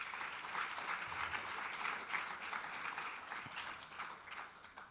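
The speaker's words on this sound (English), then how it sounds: "So another applause for them." A conference crowd applauds steadily, a dense wash of many hands clapping at moderate volume, heard from a distance.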